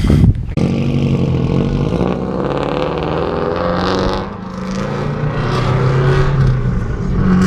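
A 2016 Subaru WRX STI engine roars and revs loudly and continuously, close up, its pitch dipping briefly midway before surging again.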